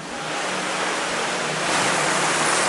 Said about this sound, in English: there is a river passing right through the cave